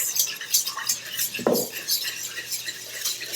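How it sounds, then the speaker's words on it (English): A whisk stirs melted brown butter in a pan for chocolate chip cookie dough, giving light metallic scrapes and clinks with one sharper clatter midway, close and fairly quiet, with no talking. "I'm just gonna go in and whisk it just to break it up a little bit and help mix it in further."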